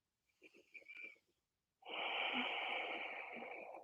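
A person doing a morning vinyasa yoga flow takes a full breath while lifting the hips: a few short, soft sniffing intakes, a pause, then a long, steady, airy breath lasting about two seconds. Close and quiet, with no talking.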